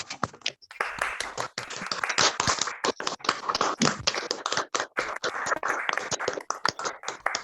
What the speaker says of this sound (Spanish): brindar un aplauso acá a los colegas y las colegas que participaron